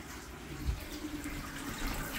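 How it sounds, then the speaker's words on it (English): Water is poured into a slow cooker, a soft continuous splashing trickle, faint and close, with a single dull knock early on and no talking. "take your water, dump that in your slow cooker."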